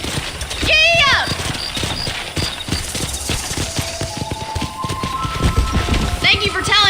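A horse in the Western video game Red Dead Redemption gallops with quick, close, rhythmic hoof clip-clops, opening with a loud whinny, and another neigh near the end, while voices talk over the hoofbeats.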